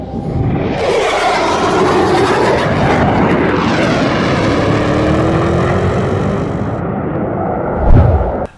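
An airliner taking off in a dramatic film scene, a loud sustained jet engine roar building and sweeping through the air, with rumbling thrust and a rising whine before the noise cuts off.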